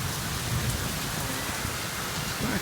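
First rain of the season after a hot day, falling steadily with a dense, even hiss of drops on surfaces, close and continuous with no voices.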